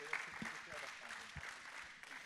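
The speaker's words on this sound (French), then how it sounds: "On peut les applaudir." Applause from an audience at the Innov'Space 2020 award ceremony, a steady wash of clapping heard faintly in a hall, with a voice speaking over part of it.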